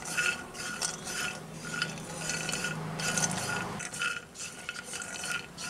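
White cumin seeds dry roasting in a pan while being stirred, giving soft repeated scraping and rustling strokes at a quiet, close level with no talk.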